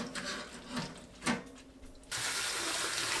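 Water runs from a tap to fill a basin for soaking cabbage, first as a few light splashes and clinks, then as a strong, steady gush that continues to the end, close by and without voices.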